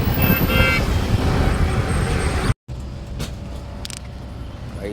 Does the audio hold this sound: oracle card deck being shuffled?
no